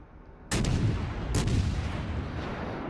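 Main guns of the Italian tier 4 cruiser Montecuccoli in the naval game World of Warships: two loud, close salvos about a second apart, each a sharp crack that leaves a sustained booming rumble.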